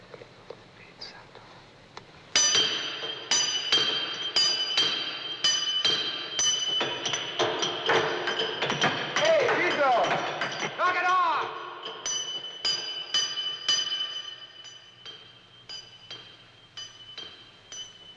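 Hammers ring against rock deep in a mine cave, a steady run of sharp metallic strikes close by, with hushed voices murmuring over part of the sequence.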